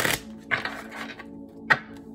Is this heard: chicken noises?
no